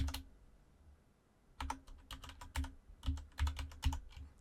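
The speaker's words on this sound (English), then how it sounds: "I am just going to type in a simple password" After a second of near silence, a computer keyboard clicks out a short password in separated clusters of sharp keystrokes, close by and distinct, with no one talking.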